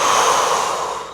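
A long, loud, close breath exhaled in a single airy rush during a morning full-body stretch, slowly fading as it ends.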